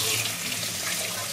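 Clean water runs steadily from a tap into a Sawyer Mini filter bag as it is rinsed out, a continuous close splashing hiss with no talk.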